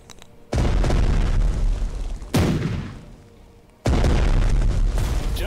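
Artillery shells hit in the World War II strategy game Strategic Mind: Blitzkrieg, Operation Sea Lion, as three heavy, booming explosions with rumbling tails, spaced over several seconds and loud and close.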